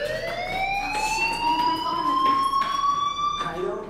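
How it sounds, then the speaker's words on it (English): Fire alarm in the video game Life Is Strange, a steady high electronic tone that slowly climbs in pitch, sounding continuously at moderate level with faint background noise. "Hey, do you hear that fire alarm? That means you should be outside."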